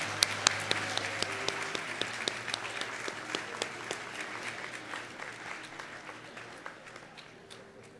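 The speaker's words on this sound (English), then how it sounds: "Let's give one more round of applause." A worship assembly's congregation applauds at length, dense clapping from a large indoor audience with a few sharp, close claps standing out, slowly fading over about eight seconds.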